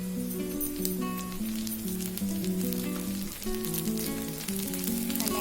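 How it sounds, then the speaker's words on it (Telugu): Curry leaves hiss and sizzle in hot oil during a tindora (ivy gourd) stir-fry, a steady crackle sitting beneath louder background music. "ఇప్పుడు కొద్దిగా కరివేపాకు వేసేసుకున్నాము."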